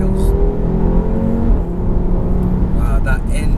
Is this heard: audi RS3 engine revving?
yes